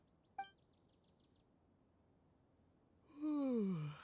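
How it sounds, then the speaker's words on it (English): A Genshin Impact character gives a single drawn-out yawn, a falling voiced sigh lasting about a second, after a short chirp and faint bird calls over quiet ambience. "I love that he actually yawned."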